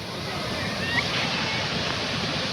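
Thavakkal waterfall at Vithura roars steadily nearby, a constant full-bodied rush of water with no pauses.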